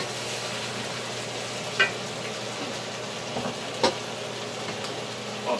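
Mushrooms fry in a pan in a small kitchen with a steady, fairly soft sizzle and a few sharp clinks of a utensil against the pan.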